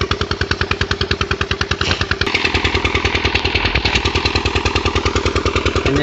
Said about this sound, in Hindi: इंजन चल चुका है, पानी और काट देते हैं